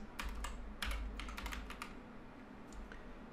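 Keystrokes on a computer keyboard tapped out in short bursts of quick clicks with brief pauses between them, close up against a low steady background hum.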